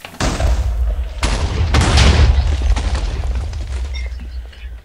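Loud explosions blowing apart an airplane's tail, a sharp blast followed by a second heavy boom, with deep rumbling and crackling debris sustained for several seconds before slowly fading.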